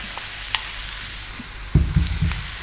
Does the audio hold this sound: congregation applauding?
no